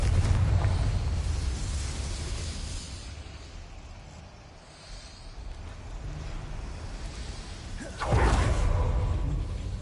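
A Confringo blasting spell goes off in Hogwarts Legacy: a rumbling, whooshing blast first, then softer roaring ambience, and a second sharp burst near the end. No one speaks.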